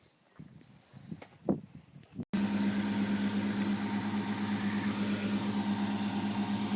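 Ford F100 truck with a bad gas tank running on vapors, its engine idling steadily and close after a few quiet handling noises, with a constant low hum.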